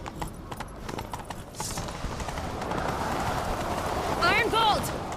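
A horse galloping in the video game The Witcher 3: Wild Hunt, its rhythmic hoofbeats building and pounding steadily under game music and effects, with a brief whinny-like cry near the end.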